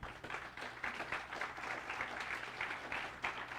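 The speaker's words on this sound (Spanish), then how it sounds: "Ese aplauso es para el Señor" A church congregation at a Sunday morning Baptist service applauds, faint and distant, a steady patter of many hands clapping that lasts a few seconds.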